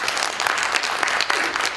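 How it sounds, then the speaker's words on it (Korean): An audience at a pansori lecture and performance claps in a brief, dense burst of applause that is loud and close, with no voices over it. "큰 박수 부탁드려요."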